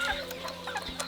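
Capon chickens clucking close by in a rural poultry setting before a year-end market, with soft, scattered clucks over a steady background hum.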